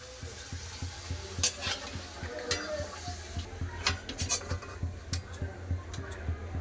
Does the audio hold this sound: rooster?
no